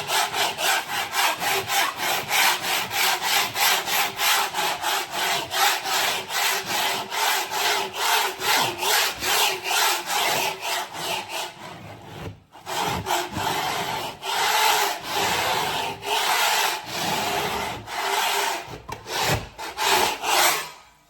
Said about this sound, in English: let's scrape it. Watch this.